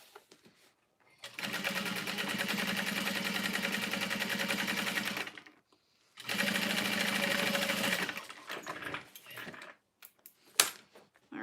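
A sewing machine top stitching runs in two long steady whirring bursts, the first about four seconds and the second about two, then a few small clicks and handling noises follow.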